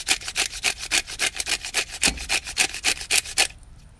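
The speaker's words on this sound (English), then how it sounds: "Then freshly ground pepper, and that is to taste." Fresh black pepper ground from a mill into homemade blue cheese dressing makes rapid, close, gritty rasping twists in a steady rhythm for about three and a half seconds, then stops abruptly with no talking.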